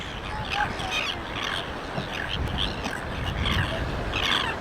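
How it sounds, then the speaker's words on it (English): Many breeding seabirds calling at the Nobbies on Phillip Island in spring, a steady chorus of chirps and cries over a dense noisy wash, with a person talking in between. "I can't believe the quantity of birds here at the moment"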